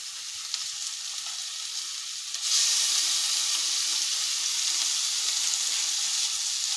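Morel mushrooms sizzle and fry in butter in a pan, a constant bright crackling hiss that grows louder partway through, with no talking.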